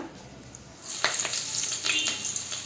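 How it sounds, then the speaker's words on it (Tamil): Curry leaves drop into hot oil and sizzle sharply, a quiet hiss jumping into a busy crackle with bright spits and pops that keeps going close up, with no talking. "கருவேப்பிலையை போட்டு பொரிச்சு எடுத்து வச்சுக்கணும்"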